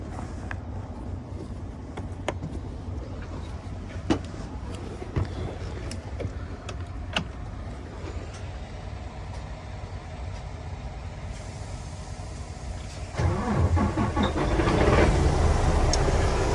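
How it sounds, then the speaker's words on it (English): A truck engine starts during a pre-trip inspection, idling low and steady for a while before the revs rise and the engine grows louder near the end, with scattered clicks and clanks over the rumble. "So let me go ahead and turn it on."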